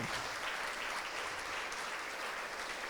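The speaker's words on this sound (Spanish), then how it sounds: "el pueblo de Dios, como lo cree, también te ofrenda un aplauso a ti de honra y alabanza" A church congregation gives sustained, dense applause in honor and praise, an even roar of many hands from start to finish with no gaps.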